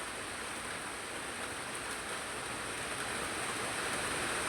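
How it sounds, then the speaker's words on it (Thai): Heavy rain from a passing storm pours down steadily, a dense, even hiss of falling water with no breaks. "พี่น้องกสิได้ยินอยู่ละว่าเสียงฝนเนาะ"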